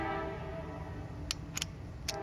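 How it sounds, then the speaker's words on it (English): A train passes nearby during an oil change on a 2002 Pontiac Grand Am SE 2.2, a steady rolling rumble with a few brief high whistle or horn bursts near the end, no talking. "wait for this train to go away"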